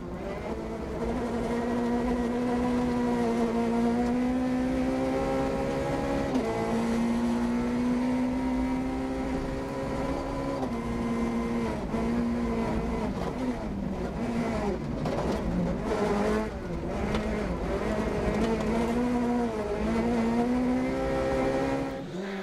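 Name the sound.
Peugeot 208 rally car racing on gravel stage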